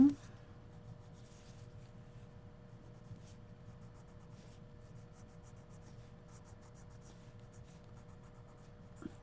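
Colored pencil rubbing steadily over flat matte Americana acrylic craft paint in an adult coloring book, a faint continuous scratchy scribble with small pauses, close and quiet with no talking.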